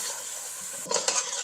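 Spices and beef for Vietnamese bò kho get stirred in a hot, sizzling pan, with a steady frying hiss broken by a few scraping strokes near the end.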